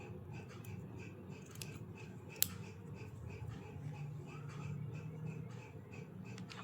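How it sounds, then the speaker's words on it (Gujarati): Scissors snip off surplus crochet thread while making a puff flower, giving one sharp, close click over quiet handling noise with no talking. "આ દોરો એક્સ્ટ્રા છે આપણે કટ કરી દઈએ."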